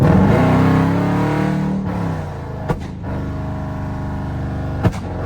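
Loud 5.7 Jeep engine revving at night, a deep roar that falls away into a rumbling idle, broken by two sharp pops, close and dominant with no talking.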